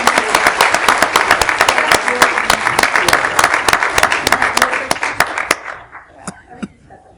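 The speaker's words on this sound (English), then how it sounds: "Again, let's give a round of applause to Miss Aileen Dick." A round of applause fills a township committee meeting: loud, dense clapping from the room for about five seconds, then thinning to a few scattered claps before fading out.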